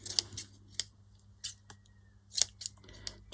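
Scissors trimming knotted fabric strips, several close, sharp snips in an irregular series, with a faint steady hum underneath.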